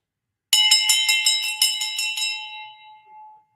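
A handbell rung to celebrate a signed first contract jingles in a quick rhythmic burst of strikes, close and bright, then rings out and fades.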